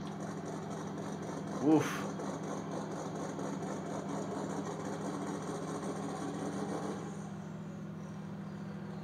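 A tractor engine in the Farming Simulator 2019 video game runs at a steady idle after starting, a continuous low hum throughout, with a brief exclamation from a voice early on.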